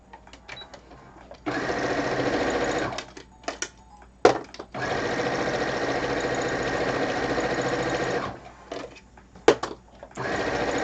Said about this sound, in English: So it's time to sew these.